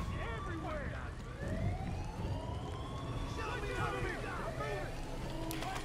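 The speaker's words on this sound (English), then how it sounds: "sirens are going off." Alarm sirens wail in the Far Cry 5 video game, rising and falling tones layered together at moderate distance over a dense ambient rumble, with a voice talking underneath.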